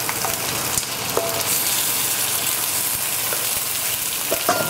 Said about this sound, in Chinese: 把姜丝放进去，把这个葱白放进去，煸炒一下